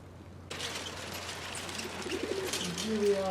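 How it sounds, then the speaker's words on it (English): A pigeon cooing: low, burbling calls grow louder toward the end after a sudden rise in background noise. "That's that pigeon."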